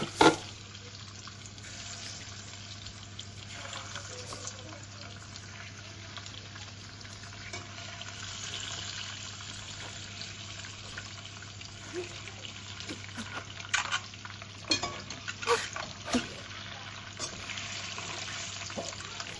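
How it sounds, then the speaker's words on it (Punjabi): Eggs frying in a pan for a home-style egg curry: a continuous low sizzle with occasional scraping and light clinks, close up and without talk. "ਇਹਦੇ ਵਿੱਚ ਆਪਾਂ ਜਿਹੜੇ ਅੰਡੇ ਆ ਉਹਨਾਂ ਨੂੰ ਫਰਾਈ ਕਰ ਲੈਣਾ"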